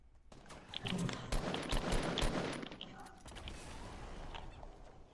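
Grenade launcher firing in an online shooter video game, a dense burst of rapid explosive gunfire and blasts lasting a few seconds, with players talking over the action.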